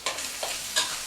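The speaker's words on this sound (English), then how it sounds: "just stir it up, make sure everything's nice and cooked" Stirring Tex Mex pork chili with corn, celery and cilantro in a pot, heard as a few close, brief scraping strokes over a soft bubbling background.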